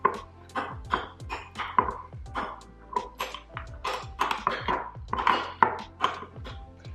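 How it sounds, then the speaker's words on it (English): A metal spoon clinks and scrapes repeatedly against a glass of milk while smashing and stirring, a steady series of bright close taps and rings with no talking. "I'm gonna take a spoon and kind of try to like smash it up."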